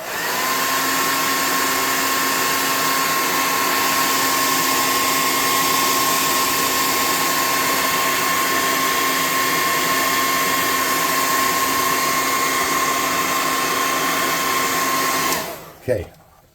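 A hair dryer blows hard and loud at a constant whining pitch while drying wet paint on a miniature model, running steadily for about fifteen seconds before cutting off with a short clatter.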